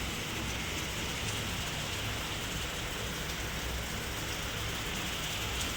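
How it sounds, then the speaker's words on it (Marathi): Steady, dense rain falls without pause, a constant hiss of drops on surfaces over waterlogged farm fields, filling the whole clip with no voices. "आता काहीच नाही तर पाऊस चालू आहे"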